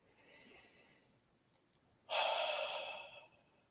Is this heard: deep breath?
yes